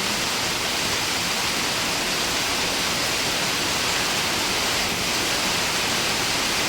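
A hard evening downpour near rice fields roars as a steady, loud, unbroken wash of falling water, without any talking over it.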